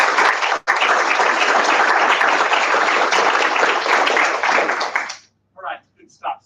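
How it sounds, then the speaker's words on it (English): A board meeting audience gives a round of applause, a dense, loud burst of many hands clapping for about five seconds before cutting off, followed by brief voices. "So how about a round of applause?"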